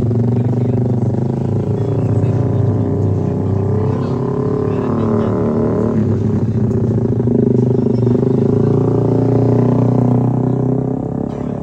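Motorcycle on a race track at a free trackday, engine droning loud and steady throughout with a mechanical clatter, no talking.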